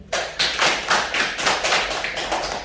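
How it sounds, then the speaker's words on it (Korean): Hands clapping in a steady, even run of roughly ten claps, fairly close and crisp with no voices over them. "박수 한번 쳐봐요"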